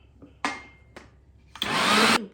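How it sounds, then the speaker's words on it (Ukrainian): An electric meat grinder mincing herring whirs in two short bursts, then runs in one longer, louder stretch before stopping, close and alone. "все це на м'ясорубку. Першим ділом відправляємо оселедець."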